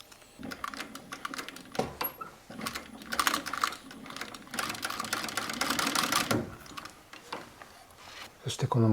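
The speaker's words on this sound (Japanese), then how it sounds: "このサイドをミシンで縫います。" A sewing machine stitches the side of a green leather slip-on shoe, its needle rattling in rapid bursts with brief pauses, close and clear, with some handling noise in between.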